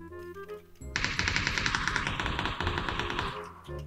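A rapid burst of automatic gunfire from a recoiling weapon in PUBG rattles out in a continuous stream of close, loud shots for about three seconds after a brief quieter stretch.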